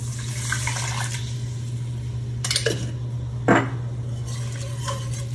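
Bone broth is poured into a pot of potato soup, with a low steady hum underneath and a few clinks and knocks of kitchenware, one sharper clank standing out, all close and fairly quiet.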